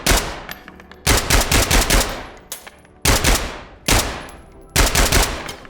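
Suppressed rifle fire in Ready or Not, rapid loud bursts of muffled shots in several separate strings with short pauses between them.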